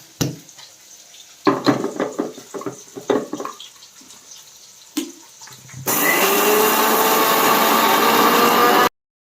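Water pours in a steady, loud rush into a cooking pan of ground onion, ginger, coriander and cumin paste for a rohu fish curry, after some brief clattering, then stops abruptly.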